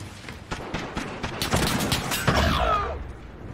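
Shotgun fire in Call of Duty: Modern Warfare, a quick series of sharp, booming blasts and echoing bangs in a game firefight, loud and close.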